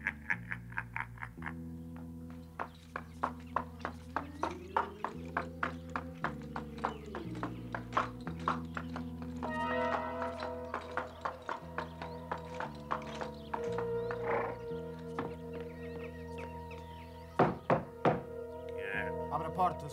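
Cartoon horse hooves clip-clop in a steady rhythm, with musical score and character voices speaking over them.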